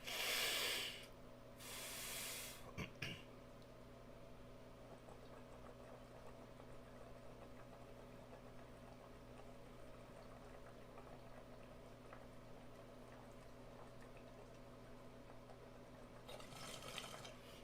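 A cannabis bong bubbling steadily through water, with brief louder bursts of hiss near the start and end, faint and close with no talking.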